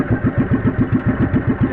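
A noisy boat engine runs close by with a steady, rapid chugging pulse of about six beats per second, loud and rough, with no voices over it.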